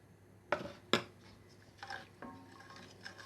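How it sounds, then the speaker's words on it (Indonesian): A spoon stirs a yellow coconut rice mixture in a pot, opening with two sharp metallic clinks against the side, then softer wet scraping strokes, close and fairly quiet. "Sekarang kita aduk sampai semuanya tercampur dengan rata."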